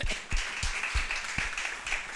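A church congregation claps together in praise during a Sunday service, with loud rhythmic hand claps repeating about every half second over a brief stretch, in a roomy space.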